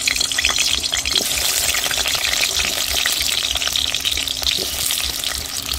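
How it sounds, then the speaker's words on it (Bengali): Pieces of elephant foot yam fry in hot oil in a wok with a loud, steady, dense sizzle and crackle that runs unbroken throughout, with no voices. "তেল গরম হয়ে গেছে, আমি কিন্তু মধ্যে ওলগুলো দিয়ে দিচ্ছি।"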